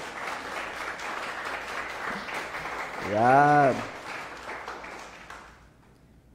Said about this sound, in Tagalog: Sige nga po, palakpakan natin si Jesus.